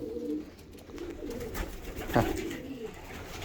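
Racing pigeons coo softly in a steady low murmur, several birds overlapping, with one brief louder call partway through.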